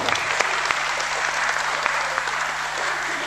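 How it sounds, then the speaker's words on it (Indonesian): A crowd claps steadily with dense, even applause, a few sharper claps standing out. "Tepuk tangan untuk panjenengan semuanya."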